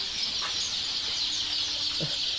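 Chickens and chicks in a poultry hatchery stock room, a dense continuous chorus of shrill chick peeping with a couple of lower clucks, close and steady, no talk.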